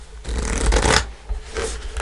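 Spirit cards are shuffled by hand in quick, close, papery bursts, busiest in the middle of the stretch and easing toward the end, with no talking.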